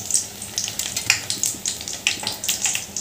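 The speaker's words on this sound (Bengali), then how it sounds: "আবারও একটা নিলাম, এরকমভাবে ডোবালাম, তেলে ছেড়ে দিলাম।" Jute leaves dipped in gram flour batter frying in hot oil, a steady crackling sizzle with bursts of bubbling pops, close and fairly loud, with no talk.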